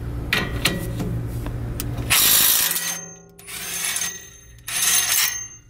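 A 17 mm bolt being removed from the axle carrier during a brake conversion on a Nissan 240SX, giving metallic ratcheting and clinking bursts that come close and loud, with short quiet gaps between them.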